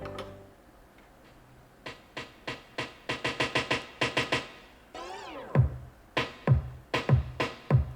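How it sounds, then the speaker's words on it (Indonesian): A DJ beat played on a Pioneer DDJ-FLX6 controller thumps in a steady kick-and-snare rhythm with sharp, evenly spaced hits and a brief sweeping effect partway through. "Beat adalah bunyi ketukan di dalam sebuah lagu."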